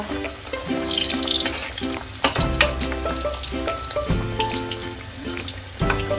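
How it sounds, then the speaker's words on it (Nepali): Veg falay, a Sikkimese fried pastry, crackles steadily in hot oil over low gas, a continuous close sizzle joined by scattered clinks of a utensil, with a tonal hum in the background and no voices. "रातो हुन्जेलसम्म चाहिँ यसलाई फ्राई गर्नुपर्छ।"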